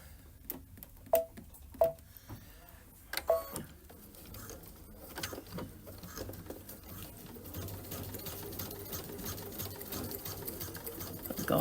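A domestic sewing machine stitches a line across a belt bag, starting with a few sharp clicks and short bursts before settling into a steady, continuous whir of rapid needle strokes that grows slightly louder toward the end.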